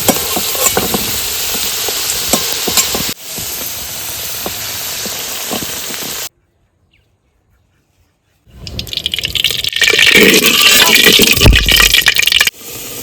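Ingredients sizzling in hot oil in a pan while cooking Kashmiri aloo dum, a loud continuous crackling fry broken by a few seconds of silence before resuming even more intensely.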